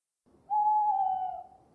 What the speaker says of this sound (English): the silence was suddenly broken by the hooting of an owl